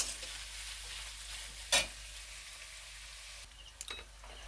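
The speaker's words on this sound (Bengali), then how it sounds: "পেঁয়াজটা ভাজা হয়ে এসছে" Onions frying in a pan, reddening for an egg curry, with a soft, quiet sizzle and a couple of sharp scraping stirs of the spatula against the pan.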